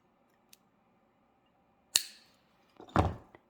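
Scissors cutting through bracelet cord, a faint tick followed by two sharp snips about a second apart, close and quiet.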